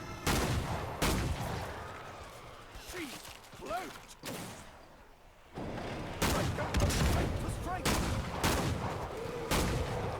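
Sharpshooter sniper rifle fire in the zombie shooter Killing Floor 2 comes as several sharp, booming single shots spaced a second or two apart, with someone talking between them.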